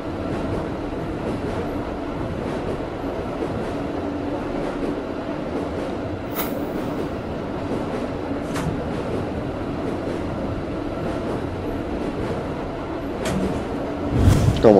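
Simulated train rolling along rails in a video game, a continuous low rumble with faint rhythmic clatter and occasional brief high hisses, steady and alone without talk.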